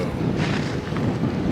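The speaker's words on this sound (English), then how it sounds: "It's kind of windy" Wind buffets the microphone on the deck of a Royal Caribbean cruise ship, a steady, loud rushing roar with gusty swells that runs for the whole stretch.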